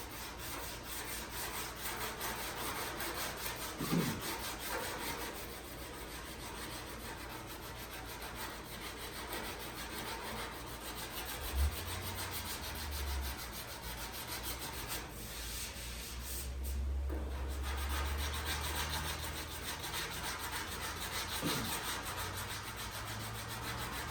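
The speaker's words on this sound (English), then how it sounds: "I'll take the block sander and go over it again." Steady rasping strokes of a block sander held flat on the bodywork of a 1957 Chevy, run back and forth continuously and close up with no talking.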